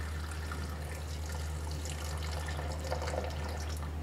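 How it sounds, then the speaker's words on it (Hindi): A cup of water is poured into a mixer grinder jar holding peeled almonds for an almond drink, a soft, steady trickle and splash over a constant low hum in a kitchen. "एक कप पानी डाल रही हूँ मैं।"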